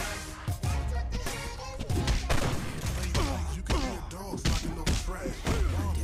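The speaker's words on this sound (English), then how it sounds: "Oh good, there's another shotgun, which means we can test this right now." Shotgun blasts and combat hits in the brawler video game Final Fight Streetwise, dense and loud, with repeated thumping shots over continuous game noise and music and no clear pauses.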